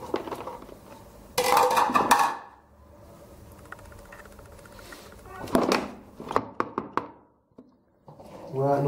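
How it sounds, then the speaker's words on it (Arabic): Remaining peppers and garlic dropped into a container of pickled tomatoes: a few clattering knocks and rattling bursts, with lighter taps in between, close by and under someone speaking. "الآن نقوم بإضافة ما تبقى من الفلفل والثوم."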